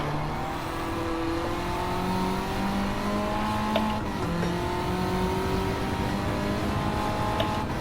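A front-wheel-drive race car engine in Gran Turismo 7 holds a steady loud drone, with pitch rising and falling as throttle lifts and comes back on, alongside a faint background of other cars.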